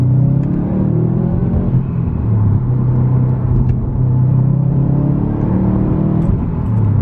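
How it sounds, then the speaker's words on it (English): A Subaru WRX STI engine pulls hard in second gear on winding roads, a steady loud cabin rumble with a low droning engine tone that shifts slightly in pitch as the car accelerates, heard from inside with no talk. "Let's do another little second gear pull around these loopy roads."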